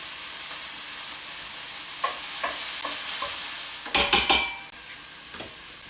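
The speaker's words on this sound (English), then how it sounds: "So it's not fully cooked, we're just browning it up." Beef browning in a hot pot as the base for an Irish-style stew gives a steady sizzle, with a few scraping stirs and clinks of a utensil against the pot. A louder burst of spattering comes near the end, and no one talks.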